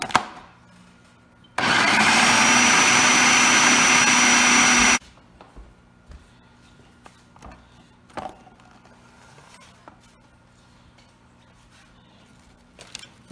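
A food processor blending chickpeas for hummus whirs loudly for about three seconds, then cuts off, followed by quiet handling noises and a few faint clicks.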